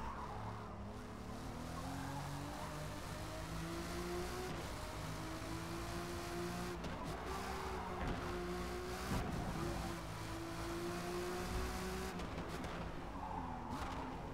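A Chevrolet Corvette race car in the Forza Motorsport racing game. The engine drones steadily under intermittent tire squeal and skidding, and the whole scene stays fairly quiet throughout.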